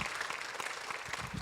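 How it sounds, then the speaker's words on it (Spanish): A church congregation applauds during a worship service, steady dense clapping throughout a short burst at moderate level. "un aplauso al Señor"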